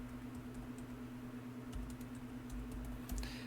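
Fingers tapping out an IP address on a computer keyboard, a quick run of light, close key clicks over a steady electrical hum.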